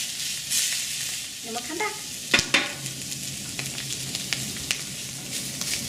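Rabbit liver and onions browning in a frying pan give a steady, close sizzle with occasional stirring clatters and scrapes, while a voice speaks briefly over the cooking.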